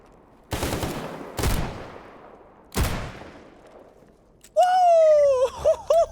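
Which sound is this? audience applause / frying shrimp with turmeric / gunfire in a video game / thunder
gunfire in a video game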